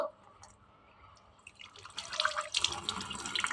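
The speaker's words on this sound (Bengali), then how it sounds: "তো আমি আগে আমার হ্যান্ড ওয়াশ দিয়ে হাতটা ধুয়ে নিব" Hands are washed with hand wash under a running kitchen tap during pasta cooking; after a quiet start, the water rushes in loudly and splashes steadily to the end, with no talking.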